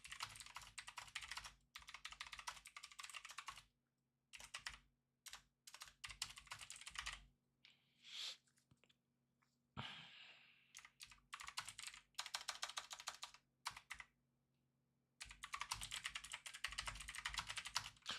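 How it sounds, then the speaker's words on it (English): Computer keyboard typing during a live futures day-trading session, with bursts of quick, close key clatter broken by short pauses, alone without talk. "Let me start typing up a little bit of this and a bit of that."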